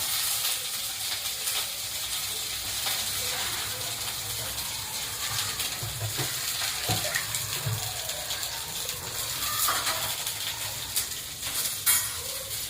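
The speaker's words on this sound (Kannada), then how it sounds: "ಆಯಿಲಲ್ಲಿ ಹಾಕಿದ ತಕ್ಷಣ ಚಟಪಟ ಅಂತ ಆಯಿಲು ಮೈಗೆ ಸಿಗೋ ಚಾನ್ಸ್ ಇರುತ್ತೆ" Eggplant pieces, cut into quarters for North Karnataka-style stuffed brinjal, fry in hot oil with a steady bubbling hiss and scattered crackles, and a voice talks over it.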